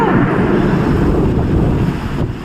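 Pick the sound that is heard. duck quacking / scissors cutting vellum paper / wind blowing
wind blowing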